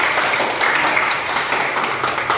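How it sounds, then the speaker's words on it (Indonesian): Applause for students in a classroom during a lesson, a steady dense patter of clapping hands filling the room throughout. "Tepuk tangan untuk kalian."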